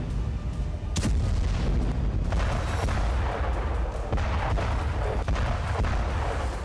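Artillery shells, MLRS rockets and missiles exploding across Ukraine: dense, loud rumbling blasts and sharp booms that overlap continuously, with a few distinct cracks standing out against a constant low roar.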